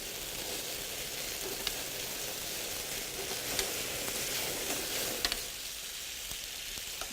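Marinara sauce sizzles steadily in a hot pan just after a flambe, a dense continuous crackle with a few sharper pops, close and fairly loud with no talking.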